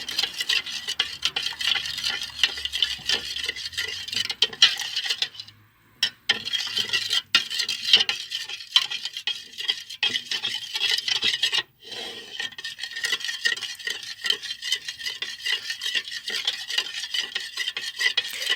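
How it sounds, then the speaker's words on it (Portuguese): A spoon stirs and scrapes a thick mixture in a container for a school chemistry experiment, a steady rasping, rubbing rhythm close by that continues for a long stretch with a couple of brief pauses. "E agora você mistura muito bem."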